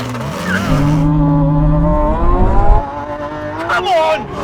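A Ferrari 812 Superfast, Lamborghini Aventador SVJ and Porsche 911 Turbo S launch together in a drag race, their engines roaring loud and close with rising pitch and tire squeal before fading into the distance.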